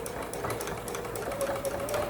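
A sewing machine top stitching close along a fabric edge, a steady fast mechanical whir running continuously at close range with no voices.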